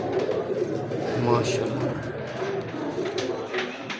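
Pigeons coo softly and repeatedly at close range while someone talks over them.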